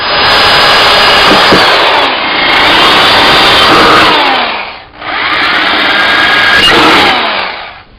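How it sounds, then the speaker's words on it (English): A power drill bores holes through a metal can for a homemade charcoal chimney starter, loud high-pitched grinding in two long bursts separated by a brief pause, close up with no talking. "we'll drill holes through the can"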